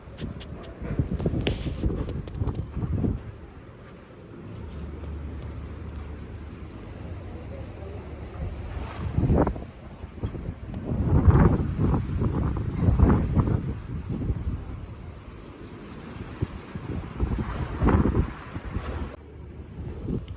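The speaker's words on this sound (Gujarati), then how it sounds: "જોરદાર વાવાઝોડું ચાલુ કૈયલમાં." A strong windstorm batters the microphone in heavy gusts, rising and falling in loud surges with rustling and flapping debris between the blasts, no one speaking.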